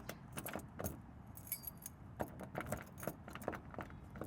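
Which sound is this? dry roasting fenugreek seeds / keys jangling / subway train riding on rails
keys jangling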